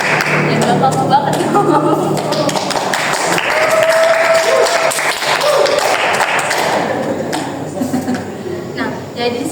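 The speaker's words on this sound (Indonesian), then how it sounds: "Tepuk tangan." Classroom group guidance session where the group claps: a steady wash of hand clapping runs the whole time, mixed with voices talking and some taps and thuds.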